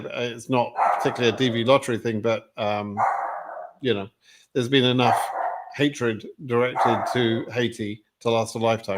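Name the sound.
dog barking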